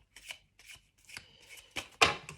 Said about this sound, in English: We have 2 cards, so I will shuffle again to see the challenge.